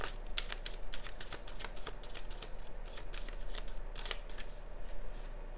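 Rapid crisp riffling of a tarot card deck being shuffled, repeated bursts of flicking and snapping close to the listener, with no voices.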